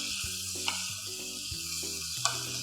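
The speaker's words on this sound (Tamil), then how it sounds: "ஸோ இந்த ஸ்குவிட்டை இதுக்குள்ளே சேர்த்துடலாம். ஸ்குவிட்டு சேர்த்தாச்சு. ஸோ இதை அப்படியே நல்லா கிளறி விட்டுக்கலாம்." Squid sizzles steadily in a hot frying pan as it is stirred, with scraping and clattering strokes from the spoon breaking through the constant hiss; no voices.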